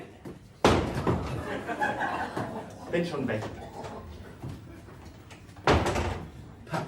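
Door thumped shut on a German theatre stage, two solid bangs several seconds apart with people talking between them.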